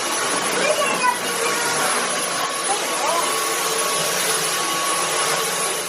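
A vacuum cleaner runs indoors in a bedroom with a loud, steady whine that holds for the whole stretch, while someone talks over it.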